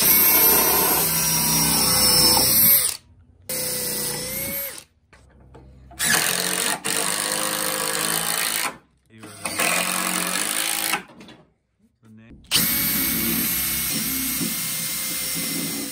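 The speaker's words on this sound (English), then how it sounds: "We're going to drill some holes and mount these boards that we're going to use for our axles" A power drill whines in repeated bursts while boring holes in wood boards, sharp and close, with abrupt silences between runs.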